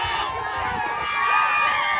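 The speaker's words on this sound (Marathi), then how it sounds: "पैठ्यावर पण जाम गर्दी आहे" A dense, noisy crowd fills a bullock cart race ground near Mumbai, with many overlapping voices and shouts blending into a loud continuous roar.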